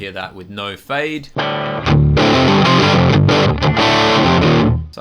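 A distorted electric guitar plays through an amp impulse response made without a fade, with sustained overdriven chords ringing loudly after a brief vocal-like opening.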